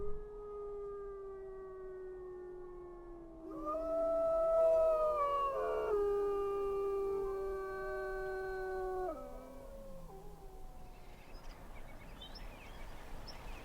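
Wolves in Yellowstone howl in a long chorus of sliding, overlapping tones, swelling louder mid-way and then fading toward a quieter, rustling end with no voices.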